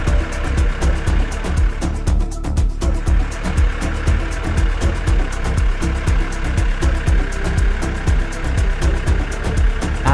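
A modern tractor engine pulls a seeder during field planting, a loud continuous diesel drone with a rough rhythmic pulse throughout, no voices.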